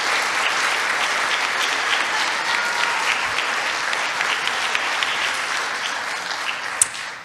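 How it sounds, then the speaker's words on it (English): Sustained applause from a crowd, steady dense clapping that fills the whole stretch at an even level, with no voices rising above it. "give you a round of applause for a job well done"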